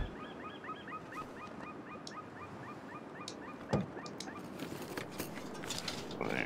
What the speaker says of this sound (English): It's definitely the warning sign from the bird.